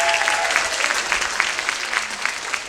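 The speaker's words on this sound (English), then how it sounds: "Give them a big round of applause, ladies and gentlemen." An audience at a special needs talent showcase breaks into sustained, dense applause, loud and even throughout with no voices standing out.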